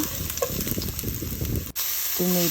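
Garlic sautés in hot oil with tomato paste and ginger: a steady, dense sizzle and crackle close by. A brief clatter interrupts it before the frying hiss resumes.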